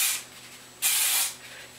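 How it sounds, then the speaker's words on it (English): Kenra hairspray sprayed onto hair in two short aerosol hissing bursts, a brief one at the start and a longer one a moment later, close and fairly loud with no talking. "I'm going to go ahead and spray the Kenra in my hair real fast."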